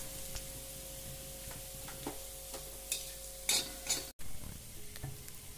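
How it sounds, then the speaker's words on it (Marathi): Chopped potato and onion with salt cook quietly in a pan, a soft low sizzle dotted with light clicks and scrapes from stirring, ending with a brief clatter. "बटाटा आणि कांदा आपल्याला छान शिजवून घ्यायचे आहेत"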